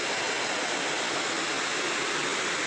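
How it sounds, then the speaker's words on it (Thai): Mae Aep waterfall in Mae Chaem, Chiang Mai, reached on foot, gives a steady, dense rush of falling water that sounds close and constant throughout. "ตอนนี้เราเดินมาถึงใกล้ๆน้ำตกแล้วนะครับ"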